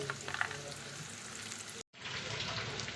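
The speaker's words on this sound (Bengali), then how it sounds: "যে ভাজা সবজিগুলো ছিল এবার এই ঘি আর তেলের মিশ্রণে আমি দিয়ে দিচ্ছি" Previously fried vegetables go into a hot mixture of ghee and oil, producing a moderate, steady sizzling hiss that breaks off briefly partway through and then resumes just as strongly.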